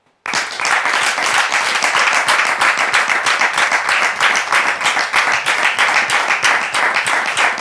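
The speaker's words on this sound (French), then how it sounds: "je voudrais demander au public de la recevoir ici maintenant sous vos applaudissements" A studio audience bursts into sustained, loud applause for a guest's entrance, dense steady clapping that starts abruptly and carries on without talk.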